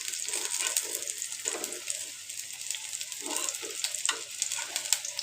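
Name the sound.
pumpkin flower fritters frying in a pan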